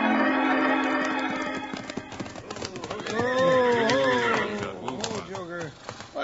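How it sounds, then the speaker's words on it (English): Horses reined up near a schoolhouse in a 1951 western radio drama: a clear, loud neigh with a wavering whinny, clip-clop hoofbeats and a shorter second whinny, with a narrator speaking over the start. "And now, Abner, Wild Bill, and Jingles are reining up their horses near the schoolhouse steps."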